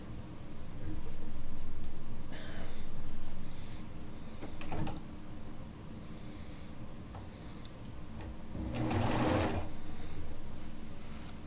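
A domestic sewing machine runs steadily while quilt fabric pieces are fed through, a continuous close mechanical whirring that speeds and slows, with a few soft fabric rustles and no speech.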